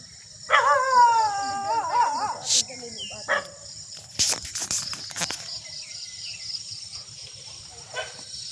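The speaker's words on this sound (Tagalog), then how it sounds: "halika na, baka habulin kayo ng aso" A dog howls with wavering, drawn-out tones, then trails into shorter yelps, over a steady chorus of crickets and insects.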